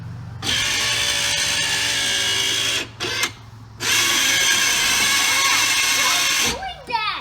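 A Ford Fox-body Mustang power window motor whines loudly and harshly, running in two long bursts separated by a short pause, with a mechanical clunk at the end and voices in the background.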